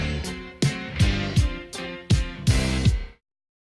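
A tune excerpt repeats its chord progression as six sharp, rhythmic keyboard-like stabs with a falling top line, bright and close, ending in a sudden cutoff.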